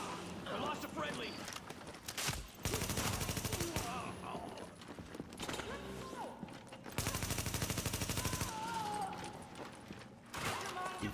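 Automatic gunfire in the shooter game The Division, repeated loud rattling bursts separated by quieter gaps, with someone talking over the action between volleys.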